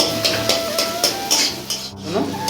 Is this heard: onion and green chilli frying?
yes